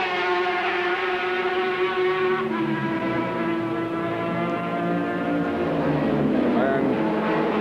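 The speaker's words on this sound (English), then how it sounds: "the Ducati, the lovely bellowing tone" A Ducati racing motorcycle at the 1991 Macau Grand Prix gives a loud, sustained bellowing engine note that rises and falls as it passes, racing alongside other bikes.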